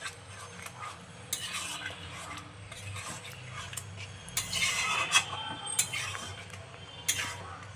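Coriander paste being stirred into chicken in a wok with a spatula, giving irregular scraping and clinking against the metal over a low background hum, with a few sharper knocks.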